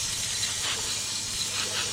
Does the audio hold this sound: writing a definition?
no